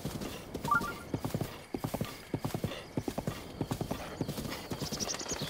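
Horse hooves gallop at a fast, even rhythm across Hyrule in Zelda Breath of the Wild, a steady run of close, crisp beats filling the whole stretch under faint ambience.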